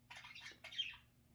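Pet parrots squawk in two harsh, close bursts indoors, each a loud scratchy call, with a brief pause between them and a low hum beneath.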